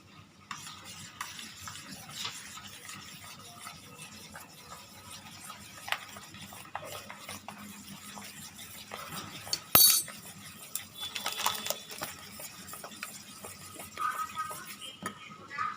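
A spoon stirs a bowl of yogurt mixed with baking soda, salt and sugar, making faint, steady scraping and occasional clinks against the bowl, with one louder knock partway through.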